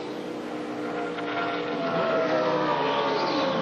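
Ricky Craven's NASCAR stock car engine running after being refired during the 2004 DHL 400 race, a steady, loud mechanical roar that swells and grows louder over a few seconds, with no voices.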